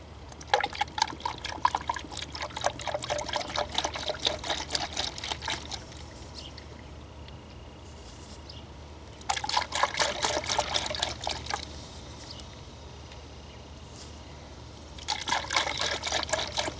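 Coolant poured into a Ford Fusion during maintenance trickles and gurgles in three separate bursts, the liquid splashing steadily up close, with quiet lulls between the pours and no talking.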